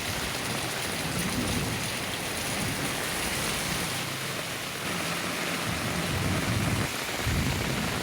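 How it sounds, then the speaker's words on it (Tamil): Sudden rain falling steadily in the Sivagangai, Karaikudi, Srivilliputhur and Valparai area, a dense continuous hiss of drops on surfaces with faint low rumbles, evenly loud for the whole stretch and no voices. "சிவகங்கை, காரைக்குடி, சிறுவில்லிபுத்தூர், வால்பாறை உள்ளிட்ட பகுதிகளில் திடீர் மழை"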